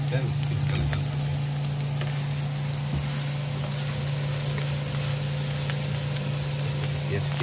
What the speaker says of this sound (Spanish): Ya se está friendo la cebollita ahí también